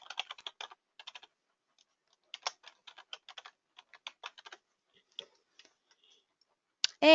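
Login credentials are typed on a computer keyboard, quiet clustered key clicks in short bursts with brief pauses, ending in a sharper click, no talking.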